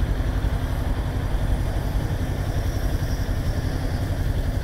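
Kawasaki Ninja 400 motorcycle with a full tank idling in city traffic, a steady low rumbling engine note holding evenly throughout with no talk.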